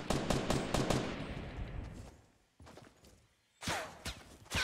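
Gunfire in the Fortnite battle royale game: a rapid burst of sharp shots at first, then isolated cracks after a short lull, and a final cluster of loud bangs.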